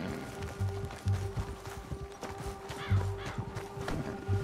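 Horse hooves galloping in the Red Dead Redemption 2 video game, a steady rhythmic clip-clop running throughout with low thuds, close and moderately loud, over ambient game background.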